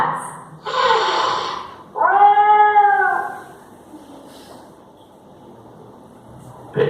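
Young pet cat, four months old, gives two drawn-out meows close by, the second with a clear rising and falling pitch, followed by quiet room tone.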